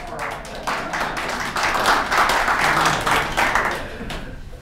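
Steady applause from an audience at a talk on private funding in elections, dense clapping that swells toward the middle and fades near the end, with a little voice mixed in.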